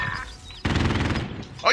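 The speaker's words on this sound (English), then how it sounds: "There's a sentry turret, run!" A sentry gun turret in a shooter video game fires a rapid, loud burst of automatic shots that starts abruptly partway in and runs about half a second, with brief voice sounds around it.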